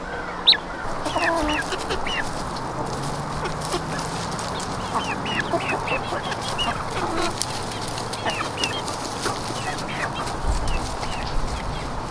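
Black Copper Marans chickens cluck and murmur among a mixed backyard flock, steady soft calls overlapping at close range with brief louder squawks, no talking.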